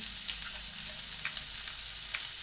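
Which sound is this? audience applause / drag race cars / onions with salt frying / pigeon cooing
onions with salt frying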